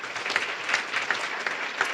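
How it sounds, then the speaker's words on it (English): An audience at a volunteer awards ceremony claps for the awardees and finalists, a brisk, even patter of many hands with a few sharper claps standing out, close and continuous throughout. "let's have one more round of applause for all the awardees and finalists"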